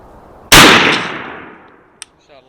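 A single loud shotgun blast from a 20 or 12 gauge firing TSS loads at a 60-yard target, sharp and close, with a ringing decay and a faint click afterward.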